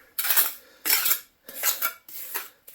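A trowel scrapes and spreads mortar onto fireplace stone in five distinct close strokes, each a bright scraping swipe with short pauses between, with no talk.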